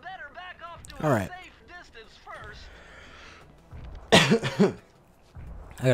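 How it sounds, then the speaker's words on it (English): A man streaming Sly Cooper and the Thievius Raccoonus HD clears his throat with a few harsh, rasping bursts close to the mic, with game voices and soft sounds before them. "I gotta clear my throat."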